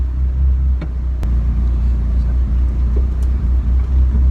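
A turbocharged 4G63 engine in a Mitsubishi Eclipse runs on a dyno with an FP3582HTA turbo, giving a loud, steady, deep rumbling drone throughout, with a few faint clicks over it and no talking.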